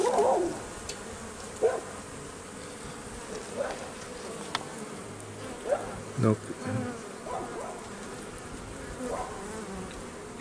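Honeybees buzz steadily on a brood frame during a full hive inspection, a close, continuous drone with a few louder passes of individual bees, while a voice speaks briefly.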